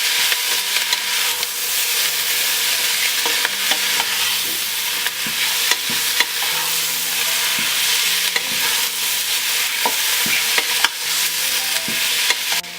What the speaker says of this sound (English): So we've sauteed the shrimp.